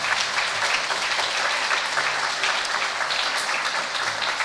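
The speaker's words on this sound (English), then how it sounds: "Another round of applause for FCI and Walt." Steady, full applause from an audience at a school ribbon-cutting ceremony, with dense overlapping claps at even loudness throughout and no break.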